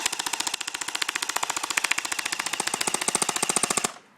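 An AK47 airsoft gun fires a single long, rapid automatic burst of evenly spaced sharp clicks, loud and close, then stops abruptly, with no talking.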